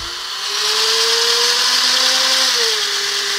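A power drill at about half trigger spins a DIY wind turbine for an off-grid cabin. It spins up into a loud, steady, high whine with a humming tone that wavers slightly, close by and alone.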